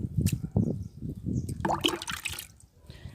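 Liquid fertilizer is poured from a glass onto large potted plants such as hibiscus and rose, producing short gurgling splashes and trickles close by, with a quieter pause between pours.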